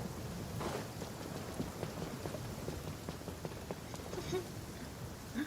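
Rain pours steadily in a rainforest, a dense continuous patter with scattered individual drops ticking through it, even and moderately loud without breaks.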